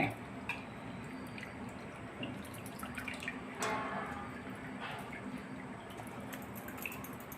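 Quiet dripping and trickling water, with soft squishy sounds as water drains from soaked potato slices for wafers, close by and without talk.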